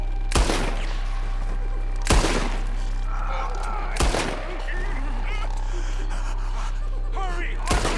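Gunshots fired at ropes in Red Dead Redemption 2: four loud, sharp cracks spaced roughly two seconds apart, ringing out over a steady low hum with faint background voices and calls between shots.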